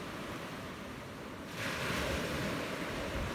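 Sea waves at a beach on Koh Samui island, Thailand, with surf washing in as a continuous rushing noise that swells louder halfway through, mixed with wind buffeting the microphone.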